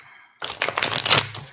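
A deck of tarot cards is shuffled in a quick dense riffle of crisp flutters and snaps, close and fairly loud after a moment of quiet, with no talk.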